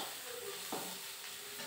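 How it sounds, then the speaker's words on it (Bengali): Sliced snake gourd fries in a pan with a soft, steady sizzle and one brief stirring scrape partway through; the sound is faint and close, with no talking. "এইদিকে চিচিঙ্গা ভাজাটা প্রায় হয়ে এসছে"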